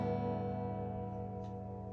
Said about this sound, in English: a fully tuned guitar will sound something like this